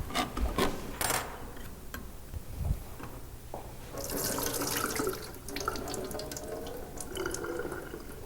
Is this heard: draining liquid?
yes